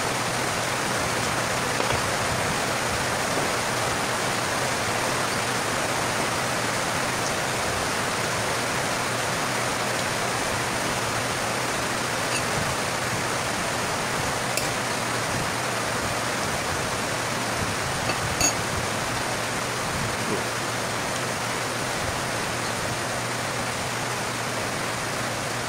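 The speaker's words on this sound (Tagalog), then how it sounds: "Lalo na umulan-ulan." Steady rain falls as a dense, even hiss that holds at the same loudness throughout, with a couple of faint ticks and no voices.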